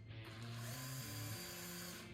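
Power drill whirring steadily while twisting wire with a screw bit during creature sculpture armature work, a continuous close motor whine with slight pitch shifts as the wire tightens, no talk.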